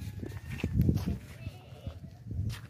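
A goat bleats in short bursts over a farm market, its calls mixed with nearby low voices and shuffling, moderately loud and close.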